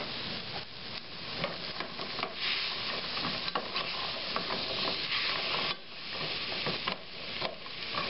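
Chopped onions, carrots and garlic sizzle steadily at the bottom of a soup pan while a spoon stirs them, with scraping and clattering through a constant frying hiss and no talking.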